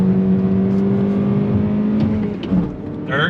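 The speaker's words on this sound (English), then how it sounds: "We're gonna heel toe downshift ourselves." A 2022 Toyota Corolla hatchback's engine drones steadily up close, then blips briefly in a quick rev near the end during a heel-toe downshift in the six-speed manual.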